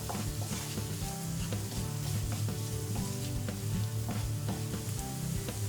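Chickpeas, tomato and spices such as paprika sizzle and toast in a hot pan while being stirred, a continuous crackling fry with soft scraping strokes of the spoon, close and moderately quiet.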